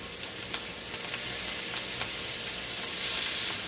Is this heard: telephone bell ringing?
no